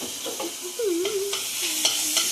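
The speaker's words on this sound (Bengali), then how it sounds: "এই পেঁয়াজ কাঁচা লঙ্কাটা একটু ভাজা হোক ততক্ষণ।" Onion and green chili frying in hot oil, a steady close sizzle with light scraping stir strokes running throughout, no talking.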